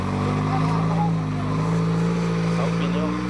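Volkswagen Beetle (Fusca) driving over a rough passage, its engine droning steadily and loud throughout, with people talking over it.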